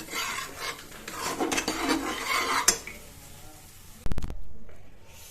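Egg rice being mixed in a pan, a scraping, rasping stir of a utensil against metal, moderately close, ending with a sharp clatter near the end.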